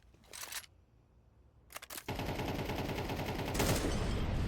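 Gunfire from an AK rifle in a Counter-Strike 2 esports match: a few sharp shots early, then a dense sustained burst of rapid fire that stays loud to the end.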